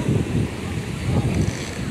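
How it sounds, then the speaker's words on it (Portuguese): A gentle breeze at Praia de Zumbi during a small jangada sailboat regatta makes a steady low rushing and rumbling of wind against the microphone, lasting the full two seconds with no clear break. "Vento hoje bastante manso."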